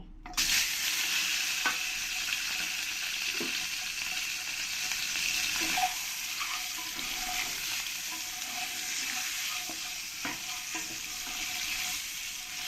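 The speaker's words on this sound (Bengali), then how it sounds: "এবার আমি এই ডিমগুলোকে প্রথমে আমি ফ্রাই করে নেব" Eggs frying in hot oil seasoned with salt and turmeric, a loud, steady sizzle that holds throughout, with occasional faint scrapes and taps in the pan.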